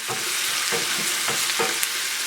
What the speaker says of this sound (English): We'll throw the garlic in now. We're just going to saute that off.